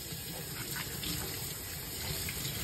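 Water from a tap runs steadily and loudly as crabs are rinsed clean, a continuous gushing splash with no pauses.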